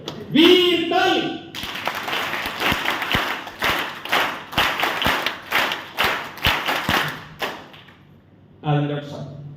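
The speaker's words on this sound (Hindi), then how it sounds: "वीर ताली।" A live audience at a motivational talk claps together with a few heavy rhythmic strikes over dense applause for several seconds. A voice is heard briefly before and after.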